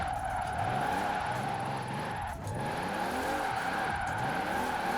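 Toyota GT86 with an all-wheel-drive swap and 1600 horsepower, driven fast in the video game Forza Horizon 4, with a loud continuous engine rising and falling in revs alongside tire squeal.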